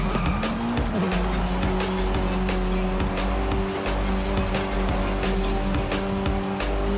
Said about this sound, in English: Into a hard braking zone.